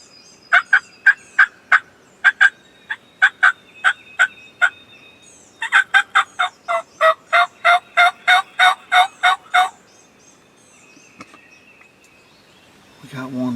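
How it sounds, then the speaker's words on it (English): A wild turkey gobbles repeatedly in the woods, with quick rhythmic bursts of clucking notes in two long runs, loud and clear, followed by a quieter stretch and a final rustle. "We got one to gobble."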